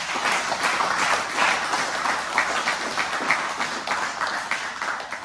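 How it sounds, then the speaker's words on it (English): A crowd at a jiu-jitsu league acknowledgements event claps in a steady, full round of applause that holds throughout. "So give yourself a round of applause."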